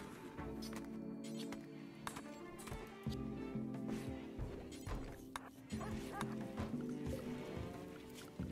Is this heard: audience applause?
no